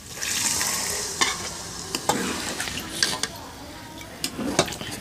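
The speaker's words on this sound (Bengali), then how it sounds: "এখন ভালো করে নেড়েচেড়ে বুটের ডাল এবং গোস্ত একসাথে মিক্সড করে নেব।" Chicken meat and boiled chickpea dal sizzling in a pan while being stirred, a steady frying hiss broken by spoon scrapes and clinks against the pan.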